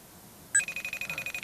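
A FaceTime call starts ringing on a phone, a rapid repeating electronic trill that begins abruptly and pulses steadily, close and clear over faint background noise.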